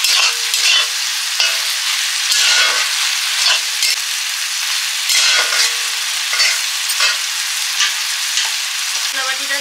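Raw green banana and potato fry in a pan with a ground paste of cumin, coriander and garam masala, giving a steady close sizzle broken by repeated scrapes and stirs, with no voices.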